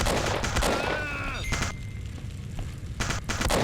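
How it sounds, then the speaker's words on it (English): Gunfire in a cover-based shootout in Legacy of Cthulhu, with dense bursts of shots at the start, a lull with a ringing tone, then another loud volley near the end. "Some cover-based shooting."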